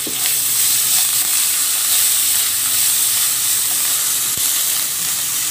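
Mint and coriander leaves sautéing in a hot pan with asafoetida, a loud, dense, unbroken sizzle and hiss close up, with a faint stir knock and no talking.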